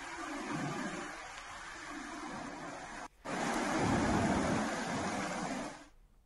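Heavy rain pours down steadily in a broad, continuous roar during widespread floods, swelling louder near the end before cutting off; no distinct thunder stands out.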